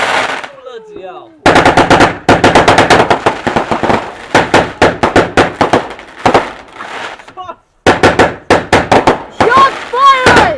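Fireworks on bonfire night go off in rapid crackling volleys, sharp loud bangs firing in quick strings with short pauses and whistles between, while a man exclaims excitedly over them.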